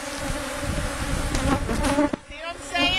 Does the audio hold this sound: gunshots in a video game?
no